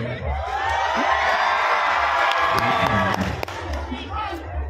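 A festival crowd at the Hil-o Hil-o Festival in Maayon, Capiz claps, cheers and whoops loudly and continuously, a dense roar of voices and shouts with scattered sharp claps throughout.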